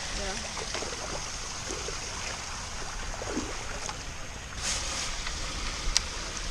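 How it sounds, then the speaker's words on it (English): Water pouring from an overflowing pond runs as a steady, broadband rushing stream close to the microphone, with a few faint splashes and no speech over it. "there's a ton of water flowing right now"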